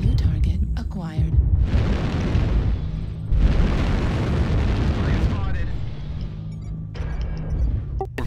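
Weapon fire and explosions from MechWarrior Online mech combat in the Hibernal Rift map, loud rumbling blasts and bursts with chirping weapon tones and sharp pops, under voices.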